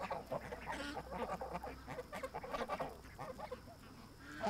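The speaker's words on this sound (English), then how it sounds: "We're going to start hearing honking." A gray-winged domestic goose honks repeatedly in short, uneven bursts, close and fairly loud, with other fowl calling alongside.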